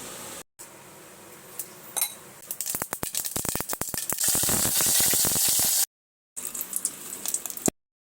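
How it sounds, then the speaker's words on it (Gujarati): Mustard seeds and curry leaves hit hot oil for tempering, building from light pops into a dense crackling sizzle with a few metal clinks, broken by short silent gaps. "તેલમાં આપણે રાઈ અને લીમડો નાખી અને વઘાર રેડી કરીને આમાં એડ કરી દઈશું."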